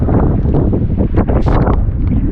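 Heavy rain and strong wind at a hilltop viewpoint near Vamala Ayyappan temple in Pallassana, a loud continuous roar of gusts buffeting the microphone with rain beneath, steady and close throughout.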